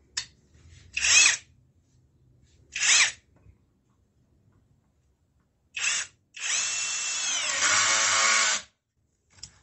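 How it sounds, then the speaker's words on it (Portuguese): A CHIGO cordless drill with torque control spins a one-inch bit at high speed, giving several short whirring bursts and then one longer, loud, steady run close by. "indo para a broca de uma polegada, vou começar em alta rotação"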